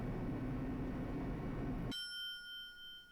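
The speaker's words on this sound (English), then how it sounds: "listening to unpleasant roars as the elevator plunged deeper and deeper into the earth" In Danganronpa 2, a descending elevator lets out a steady low roar for about two seconds, then cuts off abruptly, leaving a high ringing bell-like tone that fades.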